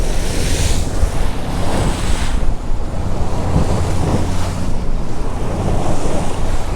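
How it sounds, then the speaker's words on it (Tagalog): Sea waves surge and break in repeated swells during a boat crossing, mixed with heavy wind buffeting the microphone; no voices. "Ang ganda ng alon pa,"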